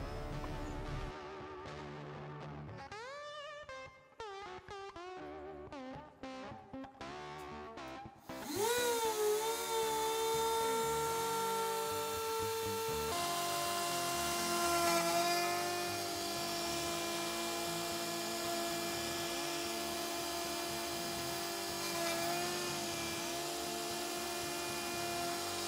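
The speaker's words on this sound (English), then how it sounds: "using a 60 degree V-bit on the CNC, I hit play and it does its thing." A CNC machine with a 60 degree V-bit engraves a bottle opener, starting with stuttering spin-up bursts before settling into a continuous high-pitched whine that shifts pitch as it cuts.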